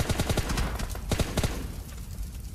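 M4 rifle fire in a battle royale shooter game, a quick series of sharp close shots in short rhythmic bursts during the first second and a half, then fading into background game noise.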